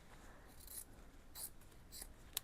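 Scissors trim fabric for a soft-spine journal cover made from a vintage book, giving three or four faint, crisp snips spaced about half a second apart against quiet room noise.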